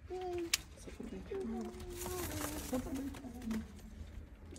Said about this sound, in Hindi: हातिम का घर का सबसे अच्छा ब्रीडर कबूतर ये वाला माशाल्लाह